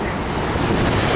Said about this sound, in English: it's a windy day here, so I hope you can hear me